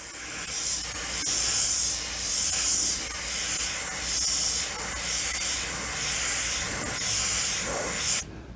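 Steady hiss of an Iwata HP-C Plus airbrush spraying paint in rhythmic pulses, close up, then cutting off abruptly at the end.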